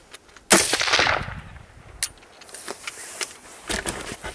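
A single loud AR-15 rifle shot cracks out on a range, trailing off, followed by a few sharp metallic clicks and clacks of the action being worked.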